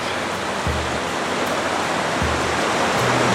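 A small river flows beneath a 90-foot bridge span, a steady, loud broadband rush of water with faint low thumps now and then.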